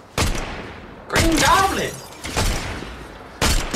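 Gunfire in Fortnite, including a DMR and SMG: loud bursts of rapid shots in several clusters, close and harsh, with a player shouting over them.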